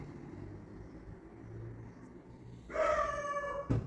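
A quiet background hum is followed near the end by a dog's loud, drawn-out bark or howl, then one sharp yelp.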